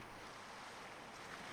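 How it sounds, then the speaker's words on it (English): Continuous ocean wash and wind as waves turn choppy around a sailing ship at sea in the game Sailwind, a brief, even, moderately faint roar. "Certainly the waves are getting a bit"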